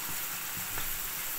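Sauces with canned tuna stirred and sizzling in a pan over low heat, a steady soft frying hiss with faint scraping stir sounds, fairly quiet throughout.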